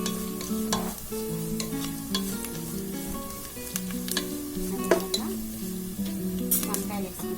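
Onions and curry leaves frying in oil in a pan, a steady close sizzle broken by frequent utensil scrapes and clinks, with a tonal background hum running throughout.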